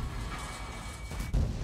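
A tank cannon fires in the World of Tanks video game, sounding one sudden deep boom that cuts through a steady rumbling battle ambience near the end.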